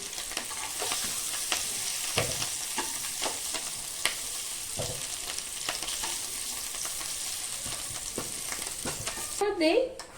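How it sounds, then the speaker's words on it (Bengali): Potatoes frying in oil for a vegetarian Bengali potato curry give a constant, close sizzle with scattered stirring clicks, ending in a brief, louder clatter. "আলুগুলো বেশ কিছুক্ষণ ভাজা হয়ে গেছে, এবার আলুগুলো আমি নামিয়ে নিচ্ছি।"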